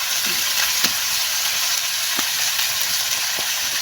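Steady, close sizzling of food frying in a pan, with a few faint clinks of a utensil and no voices.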